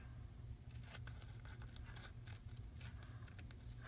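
Scissors snip through a paper napkin for a junk journal craft, giving a quiet run of quick, irregular cutting clicks close by.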